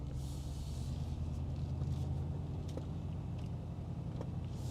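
A 1980 Chevy K10 truck engine idles with a steady low rumble, moderately close and even, with faint mechanical ticks above and no talk.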